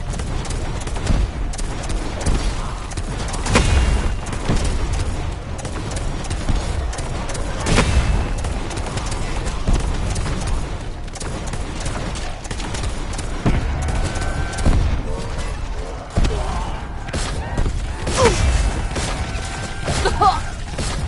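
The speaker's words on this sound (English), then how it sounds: "long become numb to the sound of explosions." Explosions and gunfire blast continuously in a zombies-style video game aboard a sinking ship, with heavy booms landing every few seconds over a constant rattle of shots and mechanical clatter, with no pauses.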